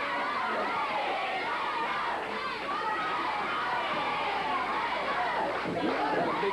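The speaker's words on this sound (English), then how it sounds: "Very excited crowd, I might add, too, as you can hear them chanting now for DiBiase." A packed wrestling arena crowd at a GCW tag-team match, giving a continuous, excited roar of many voices that swells and rises into chanting throughout.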